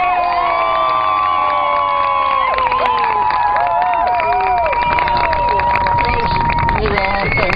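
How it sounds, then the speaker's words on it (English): Loud cheering, whoops and shouting from an outdoor crowd at a dragon boat race prize giving on Weymouth Bay, excited high voices and children calling out over scattered clapping, close and continuous. "Give them a big round of applause."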